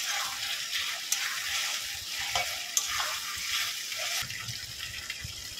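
Onion, ginger and garlic fry in a pot for a wedding-style beef curry. The quiet, continuous sizzle is broken by a few sharp clinks and scrapes of stirring, with a faint watery hiss underneath.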